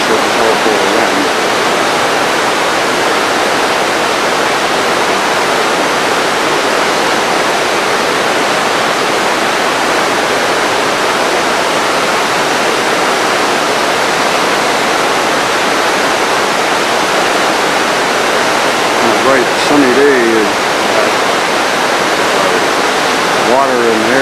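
Water and air rush down Ragged Chutes at a compressed-air hydropneumatic plant, a loud, constant broadband roar that never lets up. A voice speaks briefly near the end.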